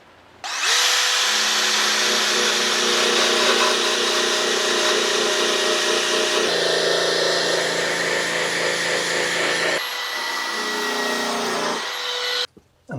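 Power tool grinding rust off a campervan body, a loud, steady high-pitched whir running for about twelve seconds before winding down and stopping.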